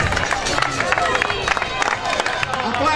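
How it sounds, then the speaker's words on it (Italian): A crowd claps and cheers steadily outdoors at a marathon finish line, with scattered shouts and chatter mixed into the applause. "applausi per Claudia Pinna che toglie il traguardo in prima posizione"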